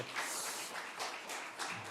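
A church congregation claps in thanks during a Sunday service, a soft, distant wash of many hands that rises and falls gently for a moment.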